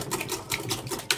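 A whisk clatters rapidly against a bowl while beating egg, oil and milk into a sauce for a layered yufka börek, steady quick strokes close to the listener with no talking.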